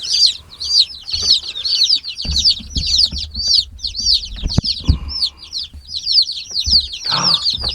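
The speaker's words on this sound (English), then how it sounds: "Look at all your chicks, Bubba" Many newly arrived chicks cheep continuously in rapid, high overlapping peeps, close and loud, with light rustling and shuffling underneath.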